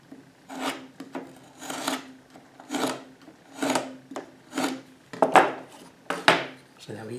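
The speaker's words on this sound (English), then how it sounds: "we're cutting on the back of the sheetrock, the part that's not going to be exposed" A utility knife scores the paper back of a drywall sheetrock sheet, seven or eight rhythmic raspy scraping strokes about a second apart, close and clear.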